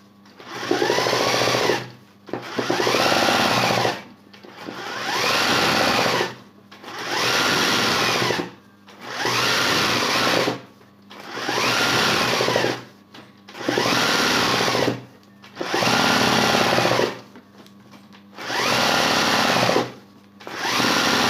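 Sewing machine stitching embroidery to decorate hand-embroidered trim on a kaftan or tackchita, running in about nine loud, steady bursts separated by short pauses, with no voices.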